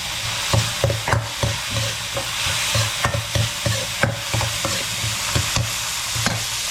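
Onion sautés in a hot pan for a Filipino bottle-gourd dish with malunggay, a close steady sizzle punctuated by repeated sharp clicks and scrapes of a spoon stirring against the pan, with no voices.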